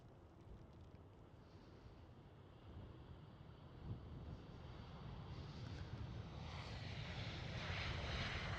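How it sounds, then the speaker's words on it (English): A KLM Cityhopper Embraer E190 rolls out after touchdown at Amsterdam Schiphol, its engine roar a steady, moderately distant broadband rumble that swells louder toward the end, mixed with some wind noise. "we get even more sound effects of this KLM Cityhopper E190."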